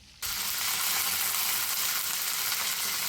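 A handful of curry leaves drop into hot oil on low heat, setting off a sudden loud, dense crackling sizzle that holds steady to the end; no talking.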